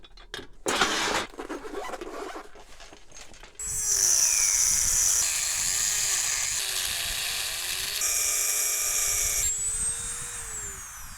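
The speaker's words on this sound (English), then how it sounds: "we'll take the Dremel with the cutting disc and cut the bolts off" A Dremel rotary tool with a cutting disc slices off overlong bolts, a loud steady high-pitched whine in several sustained passes after a few seconds of clattering handling noise.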